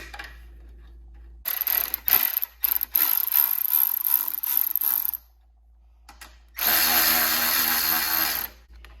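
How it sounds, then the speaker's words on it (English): Ratchet wrench running down brake caliper bolts on a Suzuki GSX-R1000 motorcycle fitted with R1 monoblock calipers, with two bursts of rapid close metallic clicking separated by a short pause. "We should be able to put our bolts in and run our bolts down."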